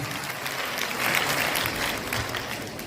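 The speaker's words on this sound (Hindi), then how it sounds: "एक बार फिर से जोरदार ताली आप स्वयं के लिए" Steady, loud applause from an audience honouring selected students at a Matrix Olympiad event in Chittorgarh, with a dense wash of clapping that swells slightly midway and continues throughout, no speech over it.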